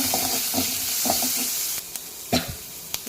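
Onions frying with a pinch of salt alongside chana dal in a pan for cluster bean palya, giving a crackling sizzle with rhythmic stirring knocks that quiet down before a few louder spoon taps near the end.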